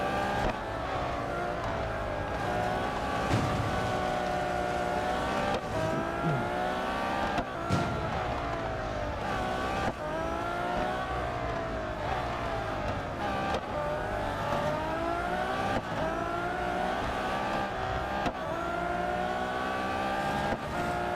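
Race cars in the Real Racing 3 video game engines screaming continuously, rising and falling through gear changes with dense overlapping engine tones as several cars run close together, loud and steady throughout with no talk.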